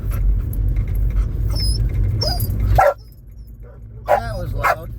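Dogs barking and whimpering outdoors during a neighborhood walk, with short sharp yips and whines rising over steady low traffic rumble, a loud burst near the middle then a few more barks.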